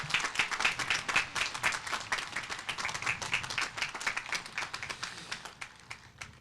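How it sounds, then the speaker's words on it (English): Outdoor crowd applause at a Memorial Day ceremony at Abraham Lincoln Cemetery, a steady round of clapping from many hands that holds for several seconds, then thins and fades toward the end. "let's give her a nice Elwood big round of applause for all that she does"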